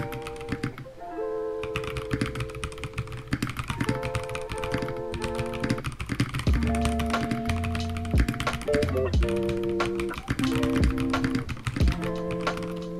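Keystrokes clatter on a Redragon Elf Pro K649 mechanical keyboard in a quick, irregular run of close clicks, with music playing steadily underneath throughout.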